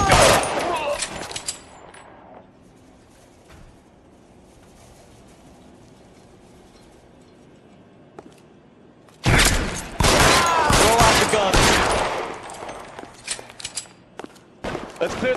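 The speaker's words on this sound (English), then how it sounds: "Covering fire!" Covering gunfire in the L.A. Noire crime game: a loud burst of rapid shots opens, fades into quiet room tone with a lone crack, then heavy sustained volleys erupt again for the final stretch.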